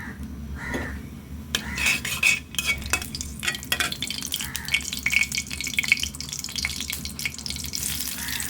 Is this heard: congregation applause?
no